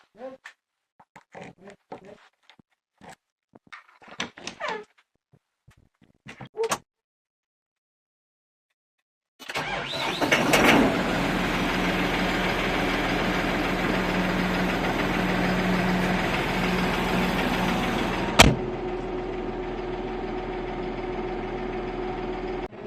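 A New Holland T4.75S tractor engine, out for olive picking, cranks into life after a quiet stretch with a few faint voices. It then settles into a steady, loud diesel idle that runs to the end.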